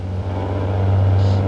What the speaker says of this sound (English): You can listen to the truck and tell when you switch gears.